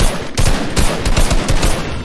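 Rapid bursts of automatic gunfire in a shooter video game, loud and close, several rattling volleys firing in quick succession with brief gaps, no voices.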